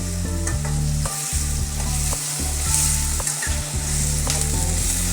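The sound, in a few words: onions and tomatoes frying in a pan for squid gravy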